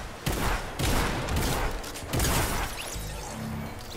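Sniper rifle shots ring out in Fortnite, a series of loud sharp cracks and booming reports at a steady rhythm against a busy game background of mechanical clatter, with no talk over them.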